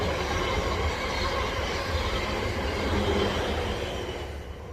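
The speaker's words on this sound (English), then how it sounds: "Here comes the train." A train rushes past nearby, a loud steady roar of wheels and rail noise lasting throughout, with faint squeal and clatter, easing slightly at the end.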